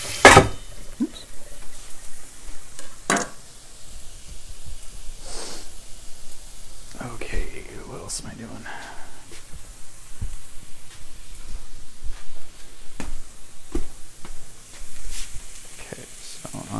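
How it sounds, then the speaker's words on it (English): Bacon sizzles and renders in a pan, a soft crackling hiss with scattered pops and a few utensil knocks, fairly quiet and steady throughout. "Drop our bacon here. Start rendering that out."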